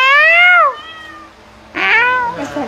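A small black-eared cat meows twice at close range, a loud drawn-out cry, a pause, then a second rising meow, with no talking.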